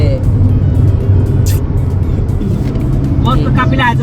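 A convoy of cars travels on a road in Patna, making a steady, loud, close engine rumble throughout while someone talks over it.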